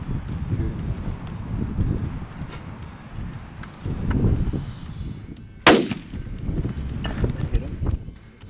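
A rifle shot fired at an aoudad ram on a Texas hunt cracks out once, sharp and loud, amid wind noise and murmured talk before and after.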